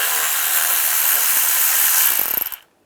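A 10mm socket wrench or power tool loosens bolts on a 2014-2019 Toyota Corolla during A/C condenser removal, a loud continuous whirring buzz with rapid ratcheting clicks near the end before cutting out abruptly.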